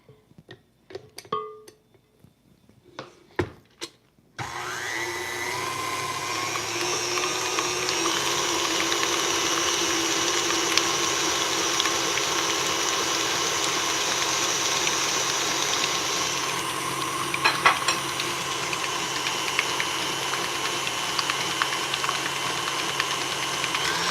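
An electric mixer's beaters whir through apple maple waffle cake batter. A few sharp clicks and knocks come first, then a loud, steady mechanical drone runs unbroken to the end.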